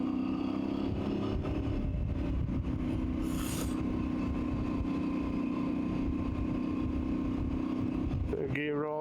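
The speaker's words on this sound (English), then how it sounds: "Lovely resonant noise from that airbox. Sounds gorgeous." Voge DS800X Rally motorcycle in third gear rolling on the throttle, a steady resonant engine and airbox intake drone under continuous speech, with a brief rising rev at the very end.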